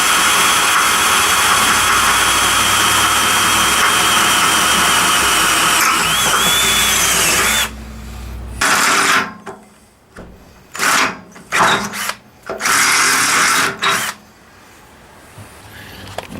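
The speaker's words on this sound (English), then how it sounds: "I'm gonna drill a hole" A loud, steady power drill whines for several seconds while drilling a hole in a metal tube on a Polaris RZR Turbo, then cuts into short on-off bursts separated by brief quiet gaps, close by.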